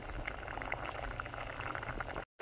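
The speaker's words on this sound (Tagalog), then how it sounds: "hayaan lang muna natin lumambot at kumulo ng kumulo" Pork nape simmering in a pot for Bicol Express, a steady bubbling boil with soft popping, close and continuous until it cuts off abruptly.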